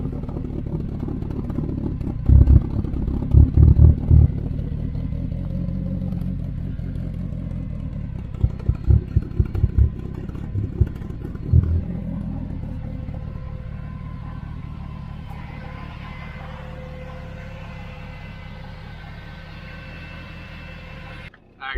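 A DSM car engine idling steadily with a low, continuous rumble and occasional bursts of clatter, recorded close by without any talking.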